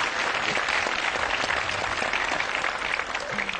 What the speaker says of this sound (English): A sympathy clap for me,